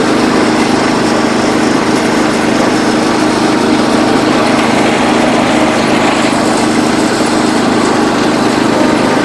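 John Deere 210 lawn tractor engine idling cold after a fresh carburetor rebuild, a steady, loud small-engine drone that holds evenly throughout with no voices.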